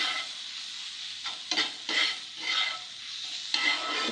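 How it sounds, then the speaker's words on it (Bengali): Egg roll filling ingredients stirred and fried in a pan for a Kolkata-style egg roll: a steady close sizzle with repeated scraping stirs, no voices. "খুব ভালোভাবে এখন নাড়াচাড়া করে নিয়ে সব উপকরণগুলো এখন ভালোভাবে ভেজে নিচ্ছি।"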